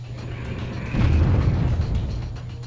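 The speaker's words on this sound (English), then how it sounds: "We have to do something about these bloody airstrikes." Airstrike explosions in the video game Warzone 2100, heard as a deep rumbling boom that swells over a steady low mechanical hum and lingers for a couple of seconds.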